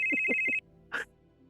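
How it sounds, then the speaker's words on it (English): An electronic telephone ringtone chirps in a quick rhythmic burst of about three pulses and then stops, followed by a brief rustling clatter, like a handset being picked up. "I pick up the phone."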